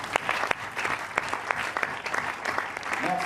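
A church congregation applauding together in worship, dense steady clapping from many hands, close and sustained throughout, with some voices mixed in beneath.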